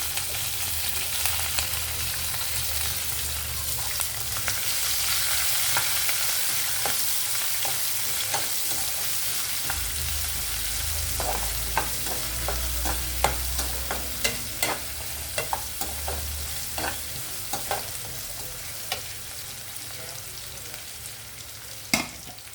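Onion and drumstick pieces frying in a pan for a Telugu brinjal and drumstick curry, a steady hissing sizzle broken by intermittent sharp scraping stirs, with a low rumble coming and going beneath.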